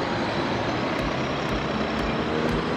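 Street traffic in Windhoek, Namibia, where vehicles drive on the left: a steady, loud broadband roar of passing trucks and cars, with faint repeating high beeps about every half second.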